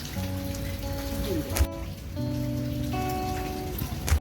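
Steady rain patters continuously on a surface, with sustained tonal notes ringing faintly through the downpour.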